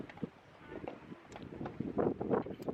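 Wind blowing across an open mountaintop lookout in Canada on a cold day, a steady rushing roar with gusts that swell louder toward the end.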